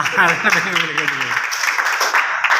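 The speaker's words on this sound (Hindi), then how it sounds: "इनके लिए तो मैं एक बार जोरदार तालियां चाहूँगा" Audience applause at a motivational education event swells in after a brief voice, a dense, steady wash of clapping filling the remaining seconds at close range.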